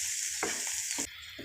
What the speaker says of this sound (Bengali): দিয়ে ভালো করে নাড়িয়ে চড়িয়ে ভেজে নেব